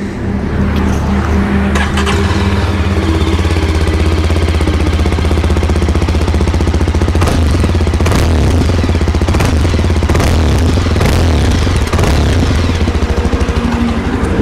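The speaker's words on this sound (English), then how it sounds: "what about the exhaust note?" Loud, continuous Yezdi Adventure motorcycle exhaust rumble while revving, with a steady low throb and occasional sharper rises in pitch, close and alone throughout.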